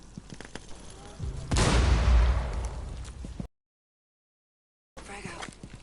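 Frag grenade explosion in the Rainbow Six game, a single loud, booming blast with a rumbling tail that lasts a couple of seconds, followed by a sudden drop to silence and then quieter ambient game sound.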